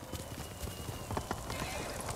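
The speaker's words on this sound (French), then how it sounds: "Allez, viens, petit cheval édition de luxe numérique." A horse's hooves clip-clop in an irregular rhythm through the video game Ghost of Tsushima, fairly faint and mixed with soft ambient game sound.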